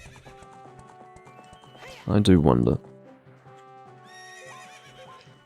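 A loud horse whinny from the video game Zelda: Ocarina of Time 3D rises briefly over soft background music, followed by quieter hoof clip-clops and a voice speaking.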